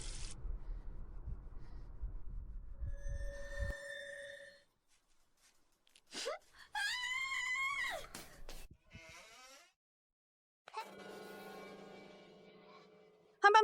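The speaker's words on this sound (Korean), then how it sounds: "한밤중에 자지도 않고 왜 소리 지르는 거야?" A woman screams at night in a tense drama scene, one shrill rising cry lasting a second or two, standing out after low rumbling and quiet, with other brief noises around it.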